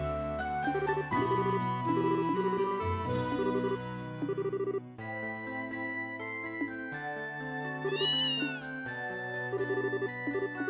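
Kittens meow repeatedly in the video game Trails in the Sky SC over gentle game music, a run of high mewing cries rising and falling across the passage.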